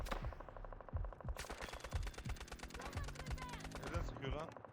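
Rapid bursts of automatic rifle fire crackle from a house in the video game Delta Force attack-defend mode, dense repeated shots continuing throughout while a player talks over them.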